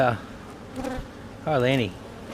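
Bees buzz close by while a weak hive is inspected. A few separate passes rise and waver in pitch, the last one louder and nearer.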